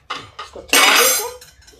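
Metal spoon scraping and clanking inside a pot of sweet vermicelli, a few short stirs and then a longer scraping sweep, close and fairly loud.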